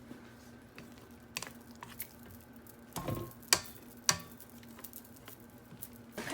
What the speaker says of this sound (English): I'm going to stir the bowl with my spatula one more time just to make sure that everything is getting nicely incorporated from the bottom